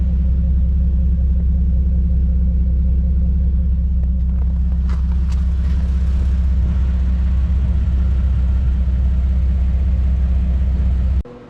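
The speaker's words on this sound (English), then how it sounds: "it is less droney, and you don't like hear as many burbles whenever I let go of the gas" A Jeep TJ engine with a custom welded exhaust using a Thrush muffler rumbles steadily at low pitch, running close and continuous with a few brief higher-pitched sounds partway through.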